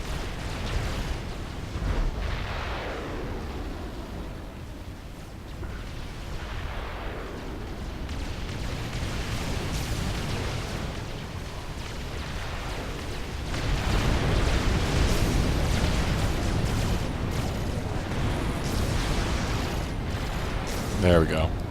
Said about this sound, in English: There's all my mobile missile launchers. Shooting in volleys from far away.